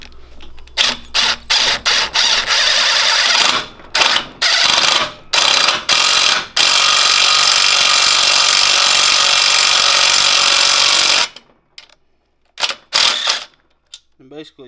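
Power drill boring out a 3/8 bolt on a twin 18 hp engine from a buggy, loud and close, starting in short bursts, then running in one long grinding stretch before stopping, with a few clicks and stray noises afterward.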